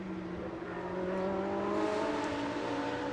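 Absolute Racing's blue Audi race car runs in GT Asia qualifying, its engine droning loud and steady with a slowly rising pitch as it pulls through the gears.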